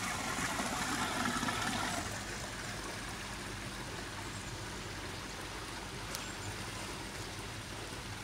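Water rushes steadily through an RV sewer line during first-time hookup, a continuous trickling flow, louder for the first two seconds then settling to an even stream, with no talk.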